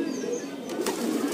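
A pigeon caught on a rooftop flaps its wings in a short, close burst of rustling beats.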